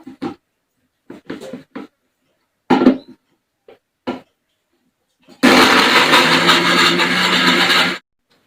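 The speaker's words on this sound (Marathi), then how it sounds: "आता आपल्याला हा टमाटा सुद्धा बारीक करून घ्यायचा आहे म्हणजे पेस्ट करून घ्यायची" A mixer grinder blends tomato into paste with a loud, steady whirring burst lasting a few seconds, after brief speech and a few handling knocks.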